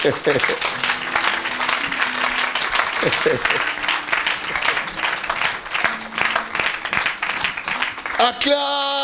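A church congregation applauds loudly and steadily during a sermon. A voice speaks over the clapping, and a brief musical tone comes in at the end.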